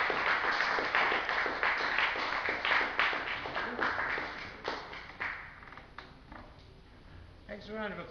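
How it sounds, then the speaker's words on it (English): Audience applause at a live Quadelectronic music event, dense clapping near and loud at first, thinning and fading toward the end with a few scattered claps. "Thanks for a round of applause"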